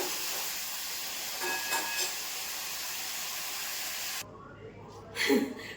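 Light, fine rain falling outdoors near a home's outside washing area, a steady broadband hiss for about four seconds that then cuts off to near quiet, with a brief soft knock near the end.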